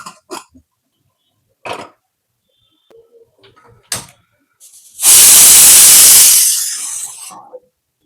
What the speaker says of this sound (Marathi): आता कुकर लावून शिट्ट्या काढून घेऊया.